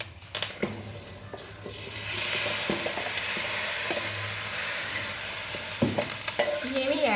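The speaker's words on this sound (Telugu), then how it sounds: "ఇప్పుడైతే శనగలు తిరగమాత పోసేస్తానండి." Hot tempering is poured onto boiled chickpeas, bursting into a sustained, close sizzle after a few clinks and stirs of a utensil against the pot.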